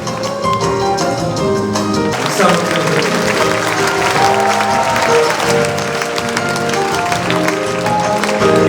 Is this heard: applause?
yes